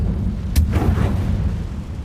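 A Confringo blast spell explodes in the Hogwarts Legacy video game, one sharp crack followed by a deep rumbling boom that fades out over a second.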